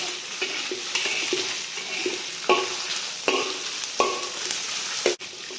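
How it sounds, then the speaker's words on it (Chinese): Sour bamboo shoots for Liuzhou luosifen being stir-fried with red chili oil, a continuous sizzle broken by repeated sharp scrapes and clanks of a spatula against the wok, close and rhythmic. "倒入我们准备好的这个辣椒油。 辣椒红油， 然后呢继续翻炒均匀"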